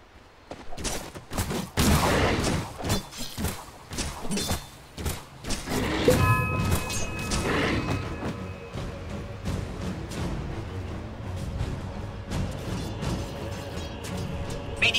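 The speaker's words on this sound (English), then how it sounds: "Radiant's middle tower is under attack." A Dota 2 tower under attack, with dense clashing impacts, attack hits and spell bursts piling up loudly in a busy late-game fight, followed by softer lingering effects.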